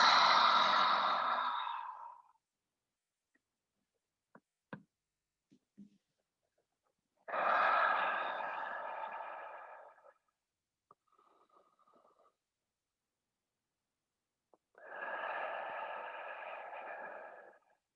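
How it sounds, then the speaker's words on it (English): Three long, deep breaths in a yoga child's pose, each a slow, airy exhale heard up close and quiet, separated by near silence with a few faint rustles. No one talks. "take a few big breaths into your whole back"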